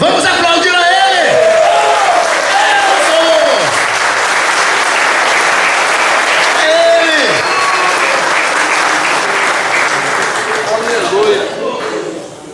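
A church congregation bursts into loud, sustained applause that fills the room, with some voices and cheers mixed in before it gradually fades toward the end.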